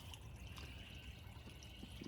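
Soft, steady trickling of a stream at a gold prospecting site, faint and continuous, with no voices.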